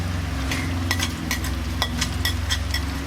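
Onions, ginger and garlic sautéing in a pan for beef kondattam, a steady low sizzle punctuated by regular spatula scrapes and light clinks against the pan, close by.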